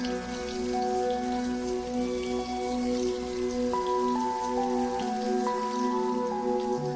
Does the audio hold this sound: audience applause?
no